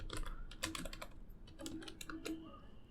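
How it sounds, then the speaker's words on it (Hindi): Keys clatter on a computer keyboard as a command is typed, a quick irregular burst of close, crisp clicks with no voices. "अब मैं सिंपली टाइप करूँगा वारसेल लॉगिन"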